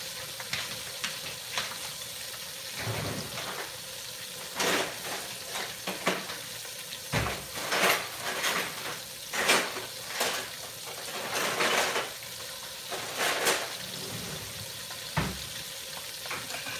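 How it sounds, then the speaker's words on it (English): Pork chops fry in a pan with a steady sizzle and hiss, punctuated by repeated sharp crackles and bursts as they are moved or stirred, close and moderately loud with no talking. "You don't want to fry your chops too long because you don't want them dry."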